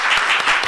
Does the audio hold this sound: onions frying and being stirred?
no